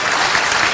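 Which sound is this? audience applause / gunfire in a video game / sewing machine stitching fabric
audience applause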